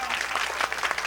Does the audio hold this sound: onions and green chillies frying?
no